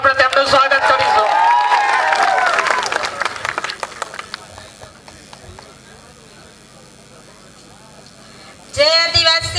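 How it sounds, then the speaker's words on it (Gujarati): A rally crowd claps loudly to welcome a speaker, the applause thinning out and fading after a few seconds before voices pick up again. "જોરદાર તાળીઓ સાથે આપણે તેમનું સ્વાગત કરીશું"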